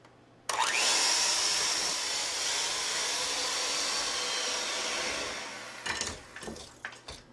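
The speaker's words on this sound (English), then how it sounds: "I want to beat that with an electric mixer until it's nice and light" An electric mixer beating butter and sugar for a cake, a loud steady whirring drone that runs for several seconds, then tapers off into a few knocks and scrapes against the bowl.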